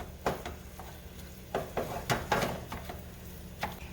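Ground beef for chili dog sauce cooks on a burner set to medium high, giving a low steady sizzle beneath a series of irregular scraping and clacking stirs of a spatula against the pan.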